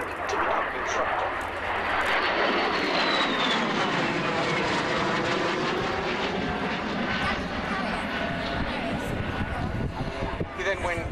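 A Royal Air Force Harrier GR7A/9 jet flying at the RIAT 2006 airshow, its loud, sustained jet roar shifting in pitch as it passes, with a commentator's voice running over the engine noise.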